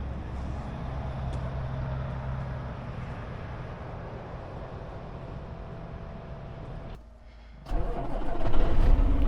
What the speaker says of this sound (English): Just started up the truck here.